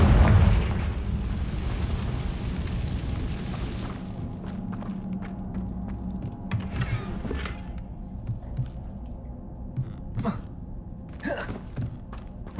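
A Confringo blasting spell erupts in Hogwarts Legacy with a heavy, loud boom at the start that fades into a rumbling tail, followed by scattered thumps and crackles.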